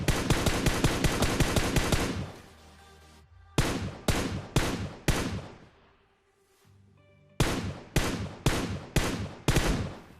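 Automatic gunfire in the battle royale game PUBG, loud rapid bursts of close shots broken by short gaps, then slower single taps with ringing echoes trailing between them.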